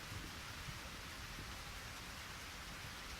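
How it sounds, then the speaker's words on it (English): Heavy pouring rain in the video game Eternal Sonata hisses as a steady, even wash of noise with no breaks, soft and continuous throughout. "it's pouring down rain like this"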